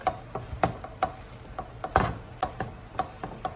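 A utensil breaks up ground hamburger meat in a pan on a stove, making a steady series of short, close scraping taps about every half second, with nobody speaking.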